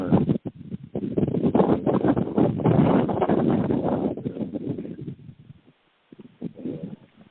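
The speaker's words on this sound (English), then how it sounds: "Oh, we're getting some wind." Wind gusts outdoors in the foothills of the southern part of a county, buffeting the microphone as a loud, broadband rumble for several seconds, then easing off before a brief lull and a fresh gust.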